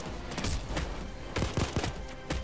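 Gunfire from the video game Payday 2, several bursts of loud, close shots in uneven clusters with thumping impacts, running continuously across the whole moment.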